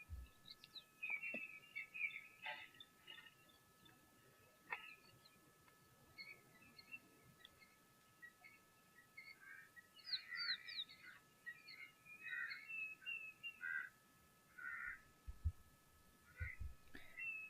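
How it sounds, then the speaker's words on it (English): A Diederik cuckoo calls over and over from the distance at a wildlife waterhole, its faint, bright, repeated notes coming in bursts, while someone speaks quietly in the foreground. "There is a Deirdre's cuckoo that is calling incessantly in the background."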